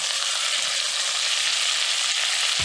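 Onion and celery fry in hot bacon fat, giving a steady, close, bright sizzle that continues evenly without talk.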